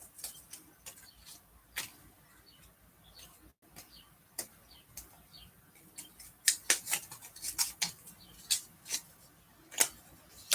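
Scissors snipping through patterned craft paper pieces for handmade cards, a steady run of sharp close clicks and cuts that quicken toward the end, with no talking.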